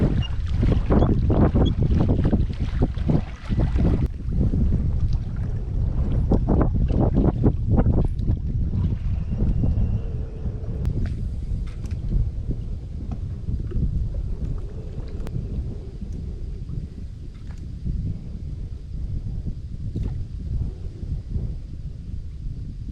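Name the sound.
wind on a mountain lake on a fall day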